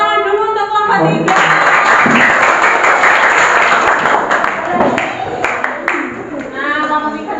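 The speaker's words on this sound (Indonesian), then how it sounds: "Tepuk tangan dulu untuk kelompok 3." Classroom applause from students for a presenting group, loud and sustained for several seconds, with talk just before and after.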